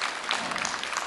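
A church audience breaks into a short burst of dense, even applause for a visiting pastor, filling the room without a break.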